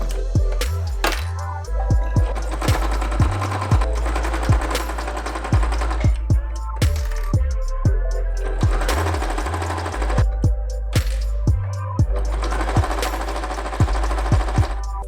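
A sewing machine stitches through a quilt in repeated bursts of rapid mechanical clatter, pausing briefly between runs, close and loud with no talking.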